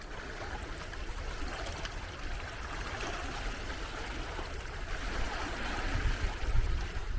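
Red Sea water washes and splashes against the shore, a steady broadband rush heard from some distance that swells slightly toward the end.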